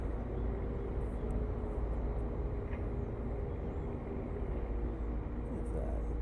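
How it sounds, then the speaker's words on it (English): A street sweeper truck rumbles steadily in the background at a construction site, a constant low drone with no breaks, while other faint noises come and go. "that rumbling sound is the street sweeper or street cleaner"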